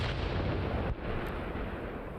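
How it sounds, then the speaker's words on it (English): Mortar shells land with a dense, rumbling roar in Arma Reforger, a continuous wash of distant blasts with one sharp dip partway through and no talk. "But still, to see a mortar team in action is absolutely brilliant."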